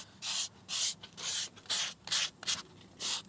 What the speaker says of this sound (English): just gently sanding it down, I can feel that the surface is nice and smooth already